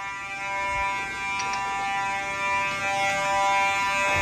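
A building fire alarm sounds during a test, a loud, steady electronic tone with bright harmonics that fills the whole stretch without a break, with faint room noise underneath.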